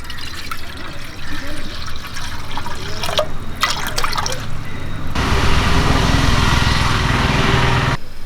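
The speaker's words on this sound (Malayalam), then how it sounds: "ഞാനൊരു അഞ്ച് ചായക്ക് വേണ്ടിയാണ് വെള്ളം വെക്കുന്നത്" About one and a half cups of water pour into a pan for masala tea, a close, bright rushing splash arriving after several seconds of quieter kitchen noise.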